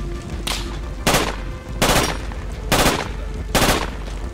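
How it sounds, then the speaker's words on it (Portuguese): Gunfire in the military shooter game Project Reality: five sharp, loud bursts of rapid shots at roughly regular intervals, each ringing briefly over a steady background rumble. "tem Maxime disparando"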